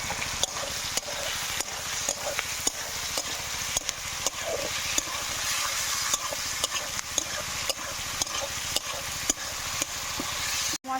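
Spices and dried chillies fry in a pan with a continuous close hiss and sizzle, broken by regular scraping strokes of stirring, with no voices.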